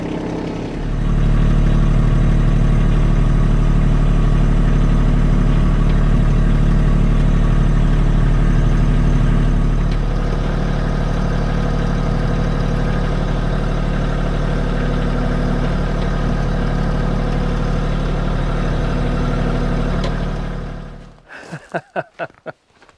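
A Kubota LX2 tractor runs at a steady, loud idle while its hydraulic angling cylinder on a LandPride RB1672 rear blade is cycled back and forth. The engine tone shifts slightly partway through, and a few clattering knocks sound as it winds down.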